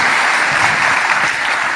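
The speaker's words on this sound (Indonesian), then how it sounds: "Beri tepuk tangan bagi Yesus." A church congregation claps steadily and loudly, a dense, even wash of applause throughout.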